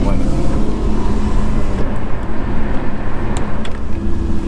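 A Lexus GSF fitted with an Apexi midpipe, heard from inside the cabin while a window rolls: a continuous low exhaust and road rumble, fairly tame. A voice talks over it.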